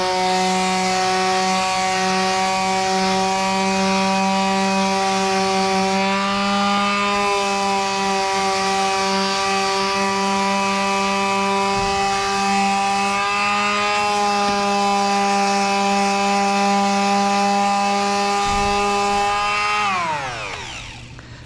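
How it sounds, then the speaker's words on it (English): Power sander working on wood with the grain while a dust collector runs, a steady loud droning whine with tonal hum held for about twenty seconds before spinning down at the end. "I'm gonna try to sand with the grain whenever possible"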